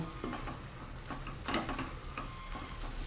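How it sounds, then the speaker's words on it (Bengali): Kulfi greens and shrimp curry stirred in a frying pan, a steady low sizzle with soft scraping strokes of a spoon at irregular intervals, one stronger stir in the middle, close and moderately quiet. "এবার একটু ভালোভাবে নাড়িয়ে দেব।"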